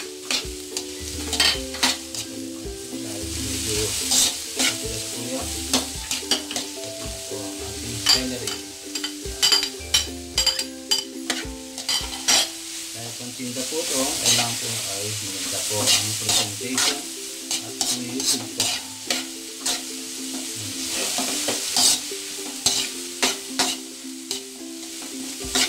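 Carrots and beans are stir-fried for pancit, with rapid, continuous spatula scraping and tossing over a steady loud sizzle throughout, and tonal background music underneath.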